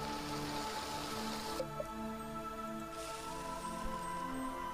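Steady rain in Black & White 2 patters over a continuous background of game music, with a brief shift in the hiss partway through and no talking.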